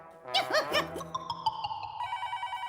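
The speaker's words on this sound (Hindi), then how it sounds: "फोन आया।" A telephone rings with a repeated electronic ringtone in a home, steady tonal bursts close by, after a brief burst of sitcom-style laughter or voices at the start.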